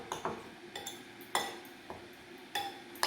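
A spoon stirs turmeric powder into a lemon and mango pickle mixture with chillies in a pan, giving scattered metallic clinks and light scrapes against the pan.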